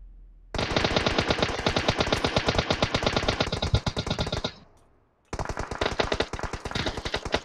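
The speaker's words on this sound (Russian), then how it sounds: "я в другого стрелял" Rapid automatic gunfire from the PUBG battle royale game, loud and continuous bursts in close succession, breaking off for about half a second before another sustained volley resumes.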